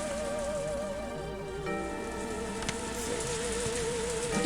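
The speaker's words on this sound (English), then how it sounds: "it would have drowned out by the rain in the forest" Steady rain falling in a forest, ambient sound from the video game Higurashi When They Cry, a continuous even hiss with a sustained tonal hum beneath it and no voices.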